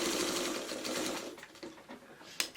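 Sewing machine stitching in the ditch along the seam of a quilted pot holder, a rapid close-up clatter that slows and thins toward the end, with a sharp click at the close.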